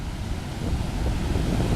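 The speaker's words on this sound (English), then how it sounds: "there's some spectacular waves being deflected off the harbour wall and created some really nasty peaks just there" Ocean surf deflecting off a harbour wall at Tarfaya, heard as a continuous heavy roar of breaking waves and wind buffeting, rising slightly toward the end, with no voices.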